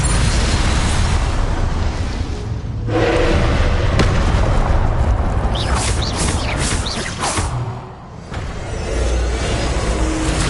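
Spell effects from Hogwarts Legacy, including a Depulso force blast, roar as dense, loud booming bursts and crackling whooshes, layered one after another over a constant low rumble with no pauses.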